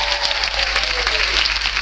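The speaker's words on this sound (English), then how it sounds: "Give Allison a round of applause, will you?" A cruise-ship show audience applauds loudly, with a dense, steady clapping that fills the whole moment, while voices come through underneath.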